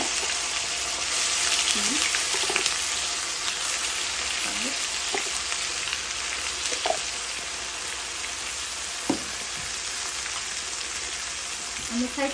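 Garlic and onion paste fries in hot oil for a khakia fish curry. A bright, steady sizzle crackles throughout, with occasional stirring knocks and faint background sounds.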